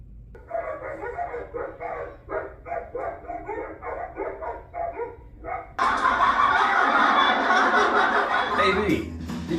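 A dog barks in a comic pet clip, with rhythmic bursts of barking and chuckling voices at first, then a louder, busier stretch of barking and laughter toward the end.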